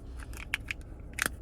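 Flat screwdriver prying open the plastic case of a Kia Stinger key fob, giving a few faint, sharp plastic clicks and cracks, the last and loudest near the end, close and quiet.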